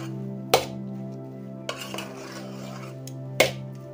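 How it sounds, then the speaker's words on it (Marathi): Cooked rice being mixed with salt in a pot, with a few sharp metal spoon clinks against the pot and softer scraping between them over a low steady hum. "हे बघा अर्धा चमचा मीठ घालायचंय आणि व्यवस्थित असं मिक्स करून घ्यायचंय भात."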